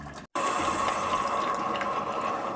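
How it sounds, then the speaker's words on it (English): Coffee pours steadily for breakfast, a close, continuous watery hiss that cuts out briefly near the start, then runs evenly without talk. "So yeah, coffee is pouring, and then from there we'll get to work."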